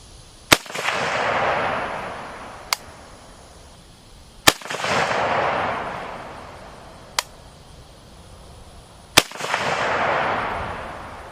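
A Romanian RH10 rifle fired at an outdoor gun range: three loud, sharp reports spaced about four seconds apart, each trailing a long rolling echo, with fainter distant shots between them and no talking.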